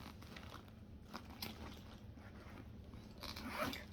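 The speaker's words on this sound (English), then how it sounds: "It's got a zipper opening." A zipper being pulled open on a Coach bag, a soft, rasping slide run in short strokes at close range, quiet throughout and ending with a slightly louder pull.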